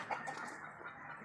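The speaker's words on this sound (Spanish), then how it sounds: "Estos animales, estas gallinas son de cruces repetidos, cruces probados" Hens from repeated, proven crossbreeds cluck softly in a short, steady stretch of low farmyard chatter, with one slightly louder call near the start.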